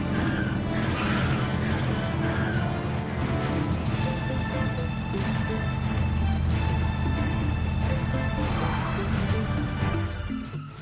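Batmobile racing in the Batman Unlimited: Gotham City's Most Wanted mobile game, a steady loud engine drone with tire skids and squeals over game music, fading out at the end.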